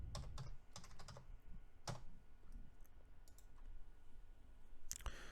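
Computer keys clack in quick bursts of typing, a few rapid runs of close, crisp clicks with short pauses between them.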